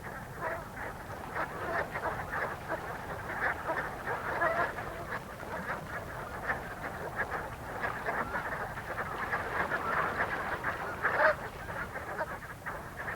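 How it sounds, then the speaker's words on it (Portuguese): Migrating geese resting and feeding in Alaska, a large flock honking continuously in overlapping calls at moderate distance, a steady chorus. "Os gansos descansam e se alimentam aqui por pouco tempo, antes de continuar sua migração em direção às terras do sul."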